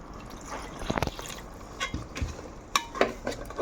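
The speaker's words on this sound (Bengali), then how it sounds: "এই যে জগের পানি এটি দিয়া দে" Rainwater poured from a jug into a cooking pot in a home kitchen, with several short splashing and dripping bursts at close range, fairly quiet and uneven.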